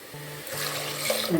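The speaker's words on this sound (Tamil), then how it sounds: "இப்போ இந்த மிக்ஸி சேரை கழுவி கொஞ்சம் போல் தண்ணி விட்டுக்கலாம்." Water is poured from a tap into a mixer grinder jar to rinse out masala, a short splashing trickle that builds in the last moment, with a faint hum underneath and no talk.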